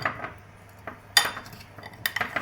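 A spoon clinks and scrapes against a bowl while amla candy is mixed at home, a few irregular metallic taps and short scrapes close by, with no talk.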